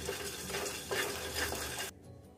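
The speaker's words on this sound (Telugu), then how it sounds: "అదే కళాయిలో అనాస పువ్వు ఇది ఒక యాభై గ్రాములని ఫ్రై చేసుకోవాలి" About fifty grams of star anise is dry-fried in a kadai while making garam masala, the dry pods rattling and scraping against the pan close up for a couple of seconds before stopping.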